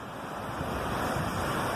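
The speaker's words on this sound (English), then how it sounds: "Yeah, the river's normally not this high." The River Porter in Sheffield, swollen by Storm Eunice, rushes past in a broad, continuous roar of churning water with wind buffeting the microphone and no voices.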